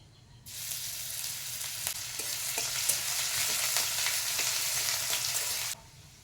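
Whole dry chilies, cumin seeds and grated ginger hit hot mustard oil and sizzle loudly and steadily for several seconds, with a few faint stirring clicks in the spitting.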